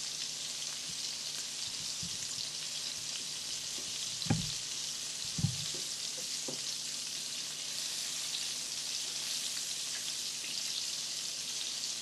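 Meatballs frying in spicy tomato sauce in a pan give a steady, even sizzle and bubble throughout, with two soft knocks from the meatballs being turned midway.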